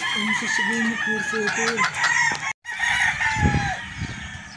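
Roosters crowing loudly and close at a gamefowl farm in Batangas, one full cock-a-doodle-doo followed by another bird's crow after a brief gap, with clucking in the background.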